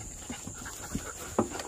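A dog barks a few times at pigs on a farm, short sharp bursts at moderate distance with panting and outdoor noise between them.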